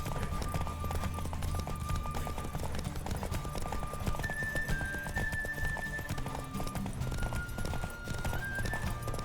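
A horse galloping during a race in The Witcher 3, with rapid, steady hoofbeats running the whole length over a thick layer of game music and ambience, with no pause in the rhythm.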